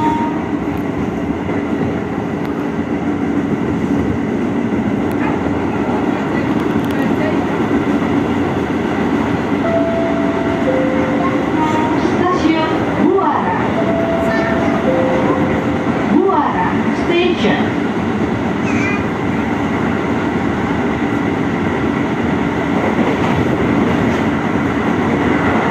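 Commuter train pulling into Buara station in Indonesia, a steady loud rumble of carriages with faint clatter and brief squeals or chimes partway through, heard from on board with no clear voice.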